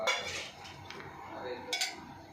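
A cooking pot is lifted in a home kitchen while preparing drumstick curry, and a few faint metallic clinks and clatters of dishes sound close by against a quiet background.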